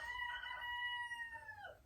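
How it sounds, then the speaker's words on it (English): A single rooster crows before dawn, one long drawn-out cock-a-doodle-doo that rises and trails off at the end, sounding faint and distant in an otherwise quiet setting. "the roosters don't even realize the sun isn't going to be up for a couple more hours."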